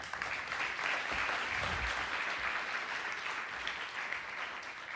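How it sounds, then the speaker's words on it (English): A conference audience applauds a speaker coming on stage at SmashingConf New York 2024, a steady, dense wash of many hands clapping that holds evenly for the whole stretch. "please, round of applause to Luke WROBLEWSKI"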